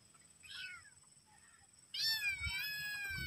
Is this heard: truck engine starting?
no